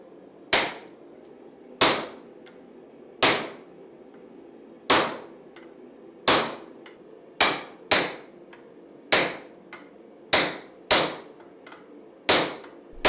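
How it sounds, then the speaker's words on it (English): A hammer strikes a steel chisel driven into an axe blade to split it open for a forge-welded laminated edge, delivering about ten sharp, ringing blows at a steady pace, each decaying briefly, with no talk. "I'm using a chisel to slowly but surely open up the blade"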